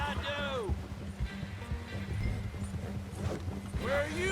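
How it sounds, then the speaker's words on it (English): Horse hooves clip-clop at a slow pace in the Red Dead Redemption 2 game world, steady and moderately close, with a short whinny near the start and again at the end, under ongoing game sounds. "This horse is moving kind of slow."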